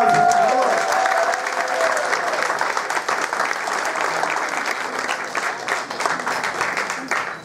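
Audience applause at a Central American independence celebration in Queens, New York: dense, sustained clapping from a crowd, loud and even throughout, with faint voices mixed in underneath.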